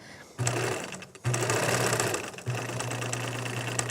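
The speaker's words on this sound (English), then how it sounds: "Now I'm going to go forward, and I'm going to try to sew on straight on my line." An electric sewing machine running a straight stitch along a marked line at slow, steady speed, a close whirring hum in three runs broken by short pauses.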